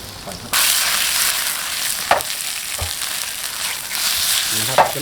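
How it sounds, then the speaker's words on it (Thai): Battered shrimp frying in a small amount of oil, giving a steady close hiss and crackle with a few sharper pops throughout. "เรามาทอดกุ้งนิดนึงครับ"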